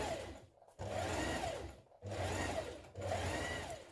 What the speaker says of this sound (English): We're going to sew that in place along the top to keep it in place.